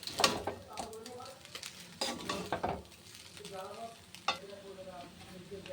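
Maggi noodles frying with vegetables in a pan, with sizzling and repeated stirring scrapes and clatter, and faint voices mixed in at times.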